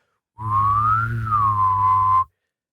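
A person whistles a wavering, sliding tone imitating a UFO sound, one steady sustained note of about two seconds that rises and falls gently, close and clear with no talking.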